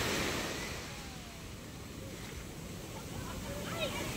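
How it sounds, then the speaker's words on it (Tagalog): Big sea waves surge and wash at a fish port in Tanza, Cavite, a steady broad roar of surf and wind close by with no clear individual breaks. "Lalaki ng ating alon, no? Kita nyo naman."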